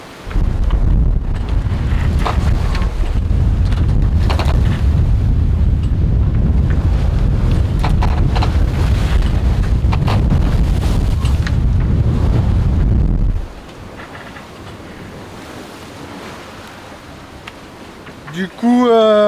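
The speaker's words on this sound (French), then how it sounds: "Le vent a forci. Il y a 20 nœuds de vent maintenant." Strong sea wind of about 20 knots roaring across a sailboat sailing close-hauled on open water, a loud sustained rush and buffeting for most of the clip before it drops away to a quieter hiss.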